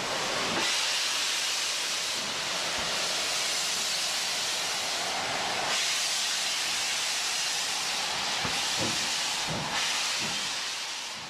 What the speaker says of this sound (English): the biggest single class of British steam locomotives, the legendary Black 5.